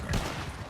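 A short burst of gunfire from the hip in Red Dead Online cracks out near the start, followed by a lingering low rumble and faint background noise.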